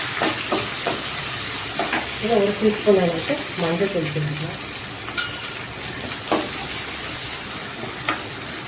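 Onions, green chilli, ginger garlic and curry leaves sauté in a pan for lemon rice, with a steady close sizzle and a few scraping stirs under a woman's spoken Tamil instructions.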